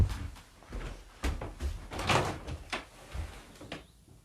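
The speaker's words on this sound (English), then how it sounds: "I'll open the door." A studio door is opened with a run of knocks, rattles and a louder thud of the latch and swing, close and moderately loud, with no talking.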